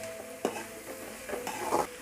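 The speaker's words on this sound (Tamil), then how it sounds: "அதுவும் கூட இது கூடவே நல்லா எண்ணெயில் வதக்கணும்." Onions and garlic sautéing in hot oil for a Tamil seela fish kulambu, with soft stirring scrapes and a gentle, intermittent sizzle at close range, a couple of louder stirring bursts standing out.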